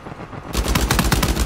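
Rapid automatic gunfire from Uncharted 4 multiplayer erupts after a brief quiet start, with dense, loud repeated shots that keep going steadily to the end, and no talking.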